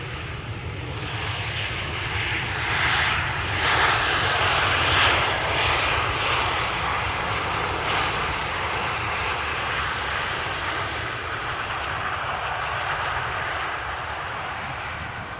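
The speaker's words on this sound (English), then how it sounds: "KLM Embraer 190 arriving from Oslo will be next." A KLM Embraer 190 airliner arriving at Amsterdam Schiphol, its engines giving a steady, loud roar that swells slightly midway and then holds throughout, with no talk.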